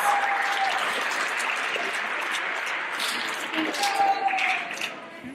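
Sustained applause from a school assembly crowd, steady and dense, fading slightly toward the end, with some scattered voices underneath.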